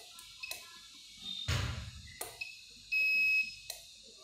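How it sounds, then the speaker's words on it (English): A differential pressure controller reaches its set point and trips its alarm: a few short electronic beeps and clicks of the relay, then one steady high tone, near and clear, with no voices. "you can see that the alarm is getting triggered on some set point and relay is getting activated"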